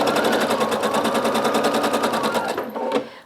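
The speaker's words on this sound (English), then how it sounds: "You just keep inserting your next strips right in there, and you just continue stitching." Rapid, even needle rattle of a sewing machine stitching quilt strips corner to corner, close and loud, stopping abruptly near the end.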